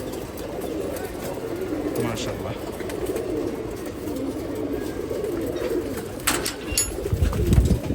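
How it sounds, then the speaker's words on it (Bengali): Female pigeons on a farm loft coo continuously after feeding, a low overlapping murmur from many birds, while someone speaks briefly near the end over a few scuffling bumps. "এগুলো সব মাদি, মাত্র খাবার দিছে কবুতরগুলোকে"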